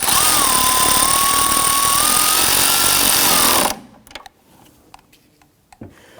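Power tool tightening a car battery terminal nut on a 2017-2020 Hyundai Elantra, a loud steady whirring run that stops abruptly after nearly four seconds, followed by faint clicks and handling noises.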